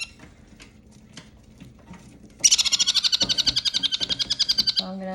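Baby kakariki parrot chick calling during hand feeding, a rapid pulsing series of loud, high, insistent begging chirps that starts abruptly midway and runs steadily to the end, close to the microphone over faint background noise.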